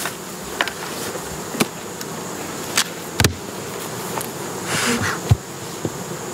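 A dense, steady hum of many honey bees swarming over an opened double deep hive, close and continuous, with occasional sharp clicks and knocks from handling the boxes.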